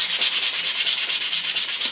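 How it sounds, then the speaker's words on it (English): Sanding by hand on a wooden speaker project piece, a steady back-and-forth rasp of about a dozen even strokes, close and loud with no talking. "That's the very last time sanding."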